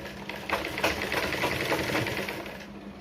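A sewing machine stitches blouse fabric in a soft, fast, rhythmic whirring chatter, steady and fairly quiet at close range, with no voices over it.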